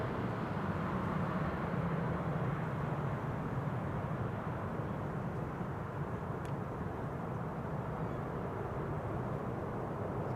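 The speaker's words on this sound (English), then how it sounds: "Typical howling that you'll hear whenever a 777-300 or freighter passes by on landing." A Boeing 777-300 or freighter passing overhead on landing approach at Amsterdam Schiphol Airport, a loud, steady broadband engine roar with a low howling tone that holds without letup throughout, with no talk.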